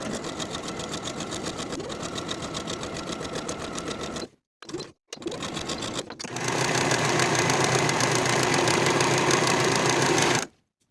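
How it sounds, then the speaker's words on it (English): A sewing machine stitches the inseam of pull-on pants with a fast, steady mechanical whir. It pauses briefly, restarts in short bursts, then runs again more loudly before stopping. "Now we're going to sew this inseam with a 3/8 inch seam allowance."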